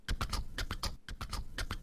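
A clip-clop galloping-horse beat from the Incredibox Void music game, a quick, even run of hoof-like knocks repeating steadily and close up, with nothing else heard.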